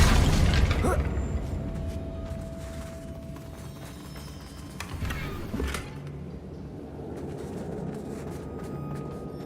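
Confringo fire spell blast in the Hogwarts Legacy video game, a sharp burst and boom near the start followed by rumbling debris and a second thud midway, with game ambience and faint voices underneath.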